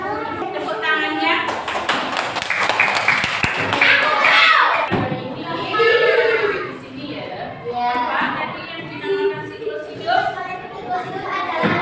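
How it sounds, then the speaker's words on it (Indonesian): Children in a primary school science classroom clap together in a quick, dense burst after the teacher calls for applause, with children's voices and talk continuing around it. "tepuk tangannya."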